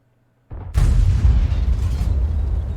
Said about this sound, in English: Bassman is now going to try and fire at the enemy.